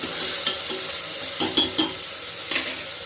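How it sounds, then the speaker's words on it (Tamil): Tomatoes sauté in a pan for mochai kootu, producing a continuous close sizzle punctuated by several scraping stirs of a spoon against the pan. "தக்காளி இந்த அளவுக்கு நல்லா வதங்கிடுச்சு"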